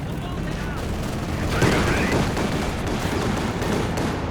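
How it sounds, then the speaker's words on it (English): Aircraft strafing run in Company of Heroes 2, a 3v3 match on Port of Hamburg: dense, continuous bursts of heavy gunfire with a sharp swell midway, layered over battlefield rumble and distant explosions. "Oh, that's a big strafe there."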